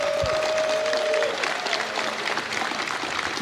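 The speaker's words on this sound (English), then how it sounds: "Everybody, a round of applause for Rich Tyrer" Audience applause at CitizenCon 2954 for Star Citizen player Rich Tyrer, a dense wash of clapping with a faint tonal whine fading early, continuing steadily throughout.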